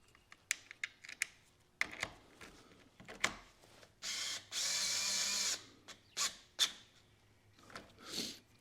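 Tools being worked on a hydraulic cylinder from a Mercedes SL500 6.0 AMG soft top, with sharp clicks and short ratcheting bursts of tightening bolts at close range, broken by a couple of longer grinding spells.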